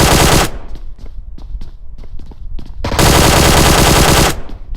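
Automatic gunfire in the mobile game PUBG Mobile: a loud sustained burst, a pause filled with scattered single shots, then another long, dense, very close burst of rapid fire.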